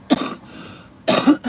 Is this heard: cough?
yes